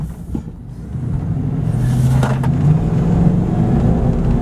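A truck engine idles in neutral with a deep, steady exhaust rumble, close and continuous throughout with no talking over it.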